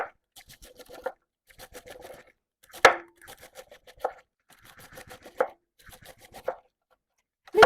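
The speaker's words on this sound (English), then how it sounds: "we're just going to start chopping this up just nice and thin" Jicama and apple being sliced thin with a knife on a board, quick bursts of crisp chopping strokes separated by short pauses, close and clear with no talking.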